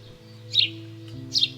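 House sparrows chirping in two short bright bursts about a second apart, close and clear over a steady low hum in the background.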